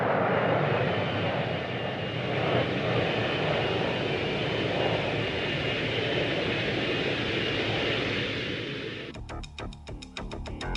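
An F-4 Phantom II jet roars with a loud, sustained broadband rush that holds steady for several seconds before fading slightly, then a brief rattling mechanical clatter follows at the end.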